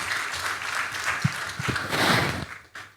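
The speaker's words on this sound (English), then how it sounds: "Can we have a resounding round of applause for him?" Audience applause at a finance and investment panel event, honoring the Prime Minister; a dense, steady clatter of clapping from a crowd that swells toward the end, then drops away with a brief trailing burst.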